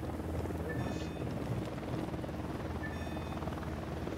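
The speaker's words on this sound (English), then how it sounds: "Who need that chopper?" A helicopter hovers in Ghost Recon Wildlands with a steady low rotor drone, faint and distant, holding unbroken for about four seconds with no voices.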